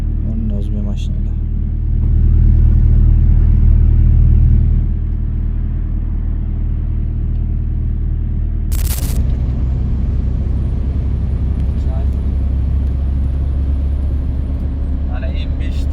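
Cars and other road traffic pass near the Moscow Food City market in Oltiariq, Uzbekistan, a steady low rumble with a brief sharp hiss partway through, heard under voices.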